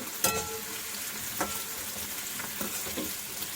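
White flour frying in a pan, a steady soft sizzle broken by a few louder scraping stirs, close and without talk.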